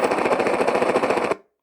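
A loud electronic machine-gun effect from the sound and light system of a 1:16 scale RC truck, a rapid, even burst of shots lasting over a second before cutting off abruptly.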